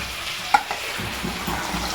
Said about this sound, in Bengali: আর এদিকে পাবদা মাছ ভাজতে দিয়ে দিয়েছি। আর এই পাশে মাছের মাথাটা ভাজা হচ্ছে